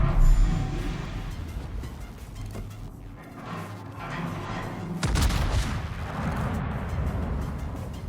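German battleship Preussen firing main gun salvos in World of Warships, with a sustained roar of heavy gunfire, a sharp booming salvo midway, and loud rumbling continuing after.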